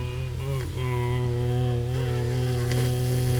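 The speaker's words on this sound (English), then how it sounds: "It's impossible to hum while holding your nose." A person humming a steady low tone with their nose held closed, a continuous buzzy drone that wavers and breaks briefly near the start, close and alone.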